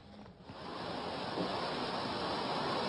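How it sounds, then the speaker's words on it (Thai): Heavy ocean surf from the world's highest recorded wave, about 19 metres, favoured by surfers, roaring as a continuous broadband wash that builds slightly and stays loud throughout with no voices. "จะเป็นคลื่นที่สูงที่สุดนะครับที่นักเล่นคลื่นชอบกันมากบันทึกสถิติว่าเป็นคลื่นที่สูงที่สุดในโลกครับ 19 เมตร"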